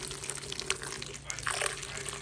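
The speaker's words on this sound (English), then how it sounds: "I'm going to add 1/2 cup of very hot water." Very hot water is poured into a blender of homemade salsa, giving a continuous splashing, gurgling pour for a couple of seconds under a steady low background hum.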